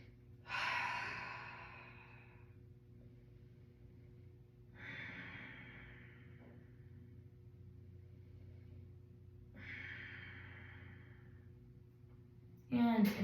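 Deep breathing during yoga in butterfly pose, three slow breathy exhales spaced a few seconds apart over a faint low hum, close and soft.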